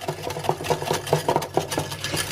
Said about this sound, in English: I'll just whisk that in.